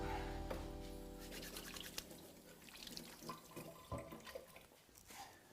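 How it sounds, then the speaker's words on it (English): A kitchen tap runs water over hands being washed, with a steady close stream, splashes and a few drips before making spaghetti. "I'm just gonna like wash my hands a little bit"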